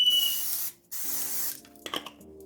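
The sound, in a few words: coconut oil cooking spray on bundt maker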